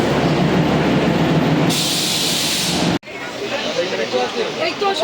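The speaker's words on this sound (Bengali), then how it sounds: "আমরা স্টেশন চলে গেছি, এই ট্রেনে করে আমরা যাব।" A train at a railway station on the way to Tarapith: a loud, continuous rumble and hiss from the rail cars is cut off abruptly partway through, then a rougher mix of rolling noise follows, with voices in the background.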